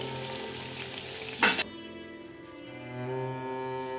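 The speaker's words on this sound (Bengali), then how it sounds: "এইভাবে সাবধানে এটাকে ভেজে নিতে হবে।" Gokul pitha, a Bengali sweet dumpling, sizzles steadily as it fries in a pan, with one brief louder burst of crackle partway through before the frying settles back to a soft, continuous hiss.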